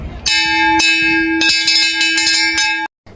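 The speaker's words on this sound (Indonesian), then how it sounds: "Setelah bel pulang sekolah berbunyi, Nafisya, Desi, Farhan, dan Ibu Guru Tasya m" A school dismissal bell rings loudly nearby, a bright metallic tone struck repeatedly at uneven intervals over about three seconds before stopping abruptly.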